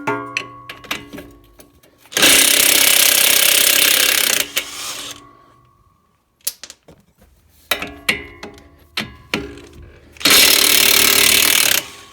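Impact wrench removing 24mm strut-to-knuckle bolts on a Honda Ridgeline front end: two loud, sustained rattling bursts of about two seconds each, separated by quieter clanks and tool handling.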